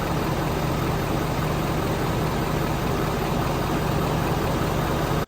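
A 2019 Ford Super Duty with the 6.7 Power Stroke diesel idles steadily after an oil change, a constant low rumble with a fixed tone that holds evenly and then cuts off abruptly at the end.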